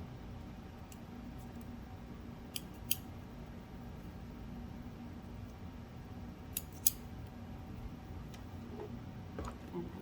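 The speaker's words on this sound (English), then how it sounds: "Let's cut off our threads for this part." Scissors snip through sewing threads on a fabric book cover project: a few short, crisp cuts in two quick pairs over a low, steady background hum.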